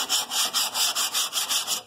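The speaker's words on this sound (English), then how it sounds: "Sand up these edges a little bit." A sanding block smooths the cut edges of a roof vent hole in quick, even back-and-forth strokes, about eleven rasping rubs in under two seconds, close and clear with no voices.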